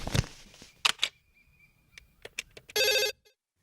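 A landline telephone rings in one short, loud, buzzy burst near the end, after a few quiet clicks and knocks in an otherwise hushed room.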